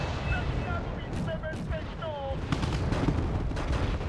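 Mortar and gunfire from a Wargame Red Dragon match form a dense, continuous rumble of distant blasts and crackling shots, with brief whistling tones riding on top.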